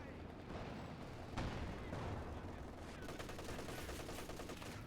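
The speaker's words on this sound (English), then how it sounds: "Nice barrage here from the Panzerwerfer" Panzerwerfer rocket artillery barrage in Company of Heroes, a Stalingrad match, with a sharp blast followed by dense overlapping explosions and crackling impacts that rattle on steadily through the clip, loud and continuous.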